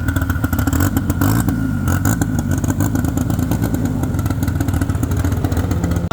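A Turbo Smart Ford Raptor truck racing at Tarlton International Raceway, a loud, close engine roaring and revving continuously with a harsh rattling edge throughout.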